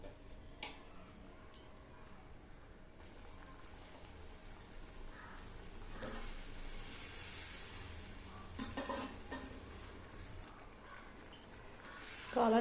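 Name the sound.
mushrooms added to the pan for mushroom gravy, sizzling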